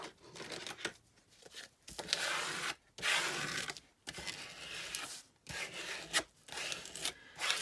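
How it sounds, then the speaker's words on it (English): A smoothing tool rubbed back and forth over tracing paper in a handmade journal gives close, soft scraping and rasping strokes in a steady rhythm, with short gaps between passes. "I think I'll use my smoosher so we can kind of get it down nicely."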